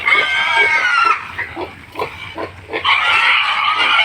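Fattener pigs being taken to the slaughterhouse oink and squeal loudly and close by, in repeated overlapping bursts with short grunts between.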